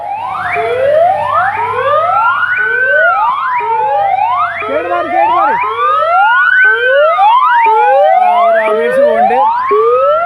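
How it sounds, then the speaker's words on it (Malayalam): Loud wailing ambulance sirens sweep up and down repeatedly, close and continuous, with a second siren's rising wails overlapping the first. "ഒരു ആംബുലൻസ് വേണ്ട ഓയ് മാറിക്കൊടുക്കേ മാറിക്കൊടുക്കേ"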